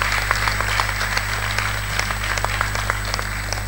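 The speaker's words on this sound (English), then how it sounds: "A round of applause for Akin." A conference hall full of people applauding at a Hilton hotel in Abuja, Nigeria, steady clapping with scattered sharper claps, sustained throughout at a moderate distance.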